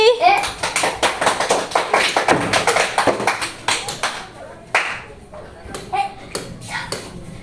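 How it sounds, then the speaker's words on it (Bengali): Clapping bursts out at a children's bottle flip game at a Rath Yatra gathering. Quick overlapping claps come close by, with excited voices of children and adults over them. "জিলিপি পেয়ে গেছে একটা হাততালি"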